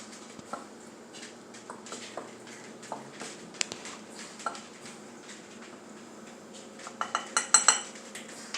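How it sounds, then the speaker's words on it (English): A metal fork stirs a mixture in a bowl, with soft, irregular scraping and clinking against the sides that grows into a quick flurry of sharper clinks near the end, close and fairly quiet with no talk. "Take our little handy dandy fork here and just stir that up together, get it nice and mixed up."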